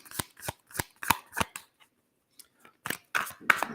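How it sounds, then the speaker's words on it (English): Tarot cards are shuffled in a quiet room, giving a run of crisp riffling bursts with brief pauses, close and fairly soft. "If y'all hear noise, it's because I'm shuffling the cards."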